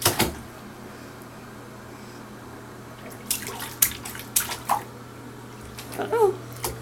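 A baby splashes water in a bathtub, giving several short, close splashes and drips in the second half, with a quiet, steady room hum underneath.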